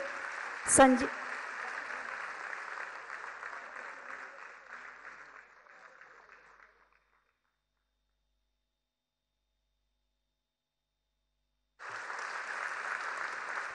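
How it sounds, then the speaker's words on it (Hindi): An audience gives loud, sustained clapping for performers receiving awards at a public event, with a sharp burst near the start, fading out over several seconds, then resuming abruptly after a silent gap. "जोरदार तालियां होनी चाहिए।"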